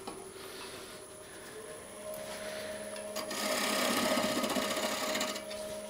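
A wood lathe spins a bowl blank while a half inch gouge cuts into it, a steady motor hum under a rough scraping hiss that swells louder toward the end as the tool bites deeper.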